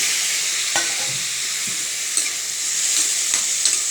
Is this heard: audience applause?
no